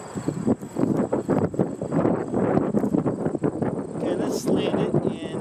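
Gusty outdoor wind buffets the microphone in a continuous, fluctuating roar throughout, as a Bixler RC glider flies in breezy conditions.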